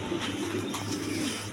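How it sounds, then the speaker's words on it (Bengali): Young Giribaz pigeons cooing softly, a short low murmuring coo heard close but faint over quiet room noise. "বেবি কবুতর আছে গিরিবাসের।"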